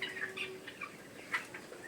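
Chickens in a poultry shed clucking softly in intermittent bursts over a low steady hum, fairly quiet and fairly close, with no one speaking.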